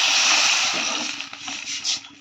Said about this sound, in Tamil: வேக கொஞ்சோண்டு தண்ணி ஊற்றிக்கிறேன்